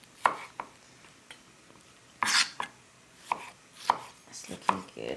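Fresh tomatoes being finely chopped with a knife on a board in a home kitchen, a string of sharp, separate knife strikes at an uneven pace, close and fairly quiet.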